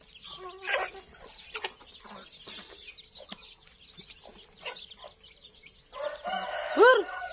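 Chickens cluck in scattered, fairly faint bursts at a rural yard, and near the end a rooster crows clearly and more loudly, with brief voices in the background.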